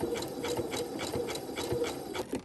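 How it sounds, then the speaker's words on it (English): A sewing machine runs steadily while stitching a quilt square, its needle thumping in a quick, even rhythm that stays loud and close throughout, with no voices. "So I'm going to go ahead and stitch this on all the way around."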